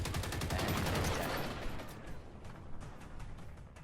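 Gunfire in the shooter game Generation Zero: a dense burst of rapid shots, loud and close for the first couple of seconds, then trailing into scattered, fainter reports and echoes.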